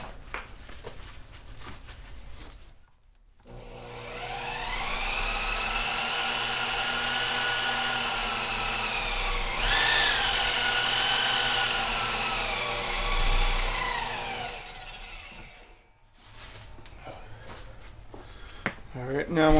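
A drill clamped in a vise spins a cymbal as it is lathed, giving a loud, sustained metallic whine with bright ringing overtones that starts abruptly, holds steady with a pitch shift midway, then stops, and faint voices are heard.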